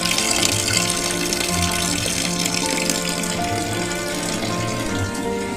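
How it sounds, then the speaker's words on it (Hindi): Brass ghungroo ankle bells for Kathak dance being rinsed under running water, a steady splashing gush filling the whole stretch without pause or speech. "अब इन घुंघरुओं को पानी से धोकर"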